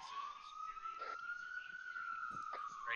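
A faint ambulance siren wails in the distance outside an open balcony door, a single long rising-and-falling tone, with soft voices speaking quietly over it.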